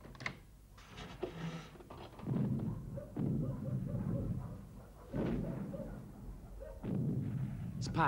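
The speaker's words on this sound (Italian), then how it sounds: "Sparano dalla parte di Piacenza." Repeated heavy booms of cannon fire thud at intervals, low and rumbling, with a few brief voices in between.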